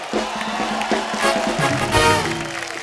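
Studio audience at a comedy talk show breaks into loud applause and cheering, dense clapping with whoops and shouts rising and swelling throughout.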